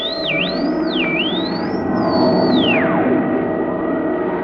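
Science-fiction spaceship jump effect from a 1950s radio drama: warbling electronic sine tones that swoop up and down, then slide sharply downward, over a steady hum.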